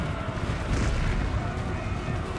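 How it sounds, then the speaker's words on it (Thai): Artillery cannon fire during a Napoleonic-era battle in the strategy game Total War: Napoleon, a dense rumbling barrage of booms and blasts layered over continuous battle noise, heavy and steady throughout. "ปืนใหญ่ไฟเราอยู่ยิงก่อนนะ"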